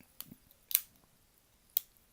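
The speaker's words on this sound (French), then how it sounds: "sur le S17, il y a les mêmes ciseaux que ça, qui remplacent le ressort de Victorinox" Scissors on a Wenger Evolution S17 Swiss Army knife being handled: three sharp, close snips or clicks spaced across a quiet background.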